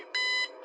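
An electronic beep from a room sensor in a horror story, sounding as two clear, steady tones in close succession, the first longer, the second starting just before the end, with a faint hum underneath.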